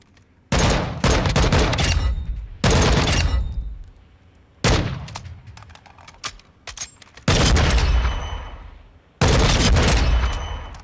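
Full-auto bursts from an NFTech Recon 458 SOCOM rifle in Call of Duty Modern Warfare, several loud sustained volleys separated by short pauses, with quieter scattered shots and distant rattle between them.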